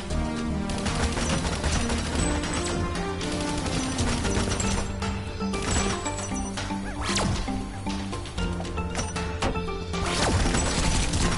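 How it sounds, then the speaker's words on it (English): Continuous gunfire in the video game Tamarin, dense rapid shots and crashing impacts layered over loud busy game sound, with no pauses across the stretch. "Well, you keep shooting, Tamarin. You don't stop."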